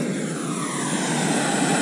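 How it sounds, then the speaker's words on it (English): A portable gas stove burner, lit outdoors on rocks, gives off a steady loud roar of gas flame that continues without a break. "I turn this latch on. You hear the gas. Now it's going."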